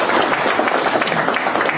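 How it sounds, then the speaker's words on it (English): Audience clapping for a speaker at a tobacco business conference in a Harare hotel venue, a loud, dense and steady burst of applause filling the room. "Let's clap hands"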